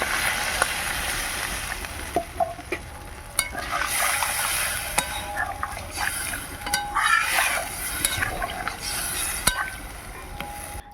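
Hot spices and potatoes sizzle and sputter as water is poured in for a rohu fish curry, a crackling hiss with scattered sharp pops and splatters, close and fairly loud.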